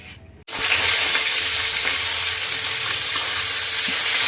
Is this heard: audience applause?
no